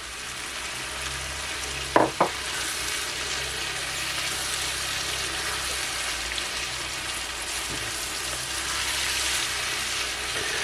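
Pasta with cherry tomatoes and sausage sautéing in a hot pan, a steady close crackling sizzle throughout, with a couple of sharp utensil clacks near the start.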